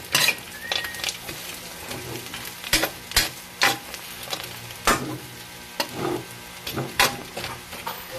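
Pork mask and ears sauté with onions in a hot pan, a continuous sizzle broken by sharp, irregular clanks and scrapes of a spatula against the pan, with no voices.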